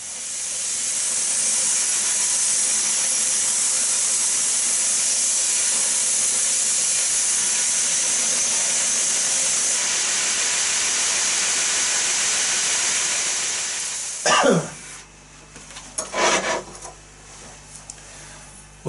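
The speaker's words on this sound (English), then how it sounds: "But gives me a chance to play with the new knife grinder." Knife grinder with a 36 grit ceramic belt grinding a rusty, pitted old-style knife blade: a loud, steady hissing roar lasting about fourteen seconds, then the belt spins down and a few short grinding bursts follow.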